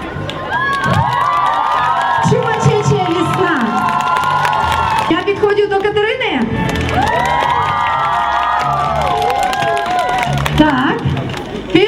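Crowd of children at an outdoor Children's Day contest cheering loudly, high voices shouting and whooping in long sustained bursts with scattered clapping, a brief lull in the middle before the cheering swells again.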